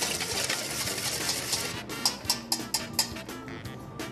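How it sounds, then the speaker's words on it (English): Whisking garlic, olive oil, parsley, salt and pepper in a bowl: rapid rhythmic clicking strokes against the bowl, close and steady, with a few sharper taps toward the end. "I'm just going to whisk that together."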